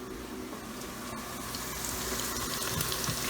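Water streams steadily into an Instant Pot for smothered turkey wings, a continuous close splashing pour that swells slightly louder toward the end, with no talking.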